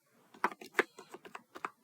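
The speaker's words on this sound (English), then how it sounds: "So I'm going to type it just like I called it." Short burst of typing on a computer keyboard, roughly a dozen distinct key clicks in an uneven rhythm, close and clear with no voices.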